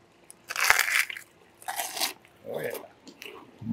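Freshly popped homemade pork rinds are bitten and chewed up close, giving a loud crunch followed by several sharp crunching bursts as the pieces break apart.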